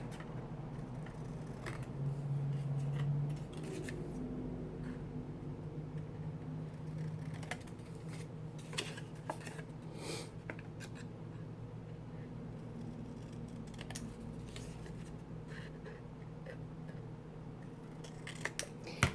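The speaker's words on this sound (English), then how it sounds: "the other two sides, we want to cut off the extra tab." Scissors cut the extra paper tabs off a handmade treat box, a quiet run of soft snips over a steady low background hum, close by, with no talking.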